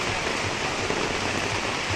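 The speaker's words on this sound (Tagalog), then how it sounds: "Inabutan na ng ulan sila Tito Monte, tsaka si Tito Dap-Dap." Rain falls steadily over farmland, a broad continuous hiss filling the whole stretch, close and even in loudness with no talking.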